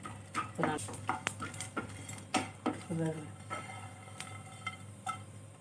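Coconut is sautéed in a pan, with a spatula stirring and scraping in quick, close, clinking strokes at a soft, intermittent level.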